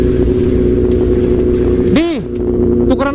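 Kawasaki ZX636 and ZX10R sport bikes ride with a loud, steady engine drone up close, broken by a rising and falling rev swell near the middle, and voices speak over it.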